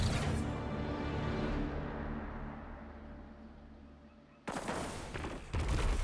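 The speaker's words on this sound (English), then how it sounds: "Telesto's still firing like normal." The Telesto weapon firing in Destiny 2, a dense continuous roar of rapid shots that slowly fades, then cuts abruptly to another loud burst of firing.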